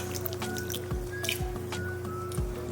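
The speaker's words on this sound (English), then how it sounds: "I take my apple cider vinegar and I pour an obnoxious amount over top" Apple cider vinegar is poured over meat in a slow cooker, giving soft wet squishing and dripping splashes at a few moments over a faint steady background hum, with no talking.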